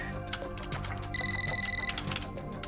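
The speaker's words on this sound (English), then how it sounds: "He then gets a phone call" A telephone rings in a short film, a single warbling electronic trill lasting under a second, heard over a busy background of other sounds.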